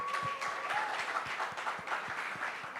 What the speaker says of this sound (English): Please, another round of applause if you're one of them.